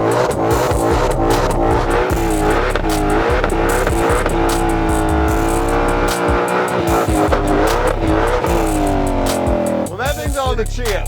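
A Ford Shelby GT500 Mustang with 760 hp roars loud and close as it performs donuts or burnouts, the engine revving hard and wavering in pitch, with tire squeal and a voice briefly audible near the end.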